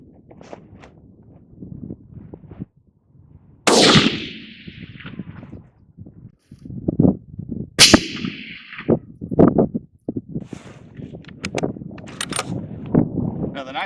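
Two loud, sharp rifle reports crack close by while an Athlon Argos BTR scope is zeroed at a range, each with a decaying tail, surrounded by talking and handling noises.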